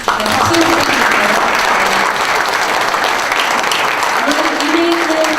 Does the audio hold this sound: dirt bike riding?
no